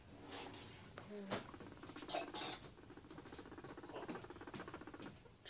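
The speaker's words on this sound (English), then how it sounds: "Cute little fuzzy guinea pig. She purrs." A guinea pig purrs up close, a rapid, rhythmic low vibration that pulses steadily throughout.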